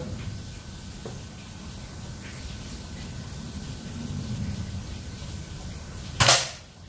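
A single sharp crack of a Mouser Biggame magazine air rifle shot near the end, after several seconds of steady low background noise.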